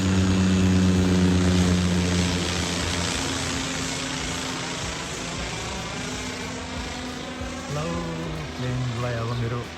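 An airplane drones overhead above a street in Phulbari, Pokhara, a loud, steady propeller-like engine rumble that slowly fades, with a person talking over it.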